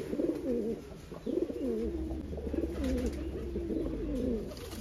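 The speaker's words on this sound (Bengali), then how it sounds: "এই হচ্ছে একটা কাপা গদ্দা নীলা পায়রা" Pigeons cooing in a loft, including a blue pigeon of the kapa gaddan type, in a steady run of soft overlapping warbling coos at moderate distance over a low background hum.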